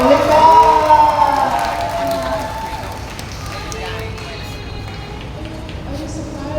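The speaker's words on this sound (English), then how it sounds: "Everybody, please give a round of applause for Linda." An audience cheers and applauds for Linda, loud whoops and shouts over a wash of clapping that fades to a lower crowd murmur, with voices mixed in.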